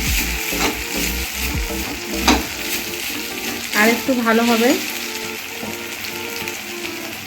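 Mutton with spices sautéing in hot oil in a pan, a steady close sizzle with scraping stir strokes and occasional clinks, while someone speaks briefly over it.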